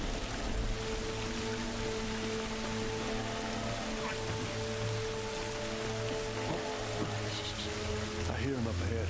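Steady rain pours down in a scene from the video game The Last of Us Remastered, a dense hiss of drops with low rumbling tones beneath, continuous and fairly loud throughout.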